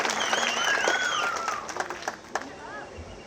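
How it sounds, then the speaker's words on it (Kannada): Audience applause breaks out at a light-hearted talk about Dr Rajkumar, with a burst of clapping that thins into scattered claps as someone speaks over it. "ಈಗ ಹೊಡೀರಿ ಚಪ್ಪಾಳೆ"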